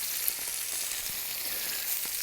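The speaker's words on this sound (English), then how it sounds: "the pan is sizzling." Salmon skin sizzles in a hot frying pan at medium heat, a steady bright crackle and hiss that holds evenly throughout with no talk.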